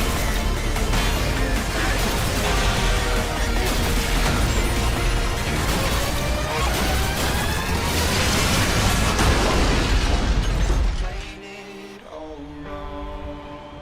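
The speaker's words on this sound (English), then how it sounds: "this side-scrolling shooter/platformer certainly delivers explosions." Dense, continuous rumbling blasts and crashes from a side-scrolling shooter video game pile up for about eleven seconds, then cut off abruptly into quieter tones.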